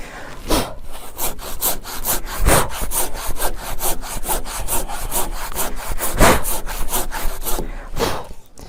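A hand saw cuts lengthwise through a wooden beam being prepared for a longitudinal beam joint, with steady back-and-forth strokes in a fast, even rhythm, loud and close, with no talking.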